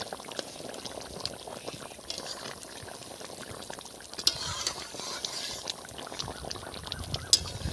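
Catla fish curry simmers in a pot with a continuous soft bubbling and popping, close and quiet, with a few slightly louder bursts near the end and no talking.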